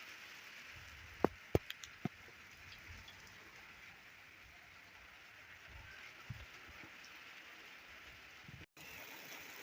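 Steady rain falls in a village while the sun shines, a soft even hiss that continues throughout, with a few sharp knocks near the start and a brief cut near the end.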